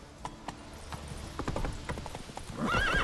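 Roach the horse in The Witcher 3 trots with steady clip-clop hoofbeats, then lets out a loud, wavering neigh close by at the end.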